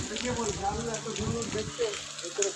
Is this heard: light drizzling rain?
yes